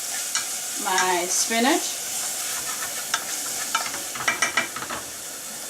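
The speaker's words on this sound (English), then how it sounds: "So let me just stir it a little bit." Spinach and garlic being stirred in a frying pan, with a steady sizzle and a few sharp scraping clicks of the spoon toward the end, plus a brief voice near the start.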